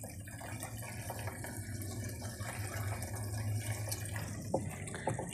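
Water pours steadily into a 55-gallon drum of homemade fertilizer made from kitchen scraps, a continuous rushing flow at close range with no voices.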